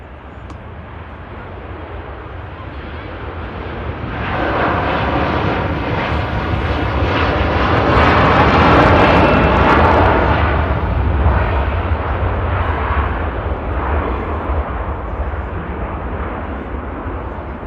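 An Emirates Airbus A380 touches down on runway 05 right at Manchester, a distant jet rumble swelling into a loud, broad roar at its peak, then easing into a sustained fading rush.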